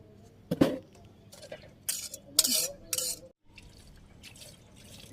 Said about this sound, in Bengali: একটু লবণ দিয়ে নাড়াচাড়া করে লবণ মিশিয়ে নামিয়ে নিই শাক